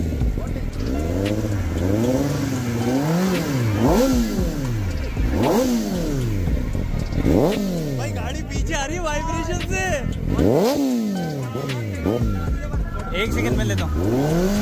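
A Kawasaki ZX10R sport motorcycle engine revs hard again and again, its pitch climbing and falling in sharp sweeps, loud and close, with excited voices talking over it throughout.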